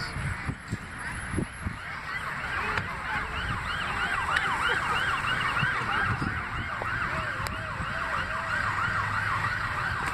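Emergency vehicles at a house fire wail with a looping siren that holds steady and loud, mixed with honks and scattered street noise, with no talking.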